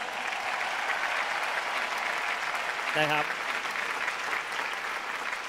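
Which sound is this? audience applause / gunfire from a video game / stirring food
audience applause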